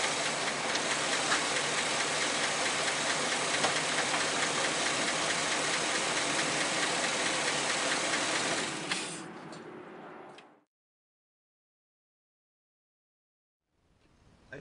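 A car engine idles steadily with motor flush in the crankcase, a dense, even mechanical rumble with ticking lifter noise, running for about nine seconds before shutting off and winding down into silence.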